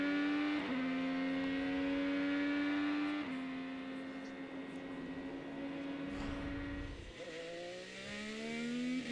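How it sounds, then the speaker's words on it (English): An IndyCar race car engine accelerating at the 2018 Honda Indy Toronto, a loud high whine rising in pitch through several gear changes, held close and steady for the whole stretch. "patient Wickens had to be on the throttle"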